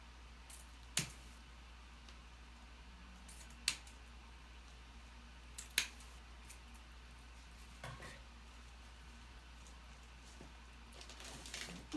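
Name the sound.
scissors trimming frayed ribbon ends at an angle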